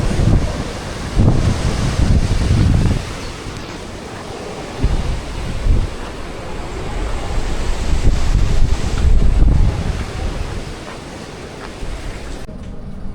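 Strong typhoon wind in Japan buffeting the microphone in loud, continuous roaring gusts that swell and ease over a rushing background, with no voices.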